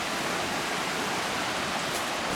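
Creek water flowing steadily in the Blue Mountains, a continuous close rushing wash that stays even throughout, with no voices over it.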